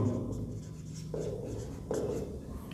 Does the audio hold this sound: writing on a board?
yes